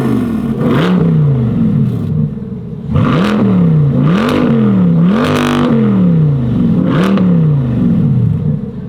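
A Corvette C8 fitted with a Borla Atak exhaust revs repeatedly nearby, each sharp throttle blip rising to a loud snarl and falling back to a rumbling idle, about half a dozen pulses in quick succession.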